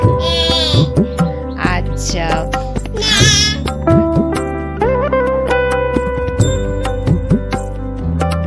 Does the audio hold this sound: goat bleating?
yes